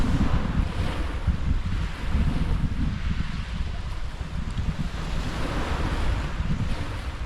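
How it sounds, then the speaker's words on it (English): Wind gusting across the mic with surf washing onto the shingle of Chesil Beach at Ferrybridge, a broad continuous roar that swells and eases, no voices. "Yeah, that wind is picking up a little bit now."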